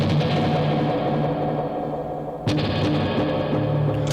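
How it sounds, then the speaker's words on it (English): Clean electric guitar with a surf-rock flavour, run through a spring reverb pedal with long decay and some delay, chords washing together into a dense, sustained wash, with a sharp new strum about halfway through. "kind of really long decay spring reverb"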